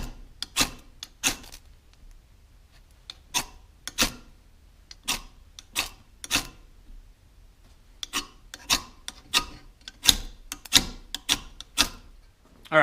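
A ferro-rod fire starter is struck again and again onto magnesium shavings indoors, giving sharp scraping rasps in irregular bursts with quiet gaps between them, close and fairly soft.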